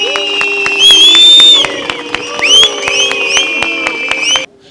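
Protesters outside the Justice Ministry clap in a steady rhythm while shrill whistles rise and swoop loudly over the crowd, then cut off near the end.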